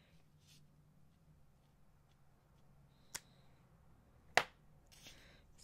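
Scissors snip the ends of a bead necklace cord in two sharp, isolated clicks a second apart, close and crisp against a quiet room.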